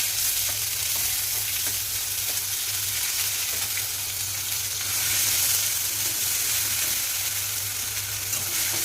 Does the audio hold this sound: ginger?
yes